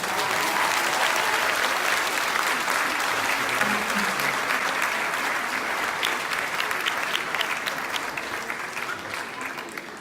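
An audience applauds a school at an evening show, dense sustained clapping from a large crowd that stays loud and slowly eases toward the end.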